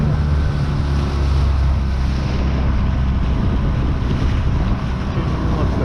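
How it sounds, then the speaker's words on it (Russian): Strong, rising wind buffets the microphone over a steady low rumble of waves slapping against a boat hull on a river in the far north during grayling fishing, with the wind blowing along the current; loud and continuous. "Волна такая. Немножко ветер поднимается."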